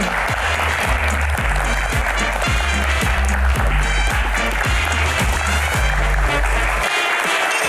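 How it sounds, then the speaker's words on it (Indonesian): Studio audience applause for a guest on a political talk show, loud continuous clapping over a throbbing rhythmic low-end beat of music that drops out near the end. "Tepuk tangan lebih meriah lagi teman-teman."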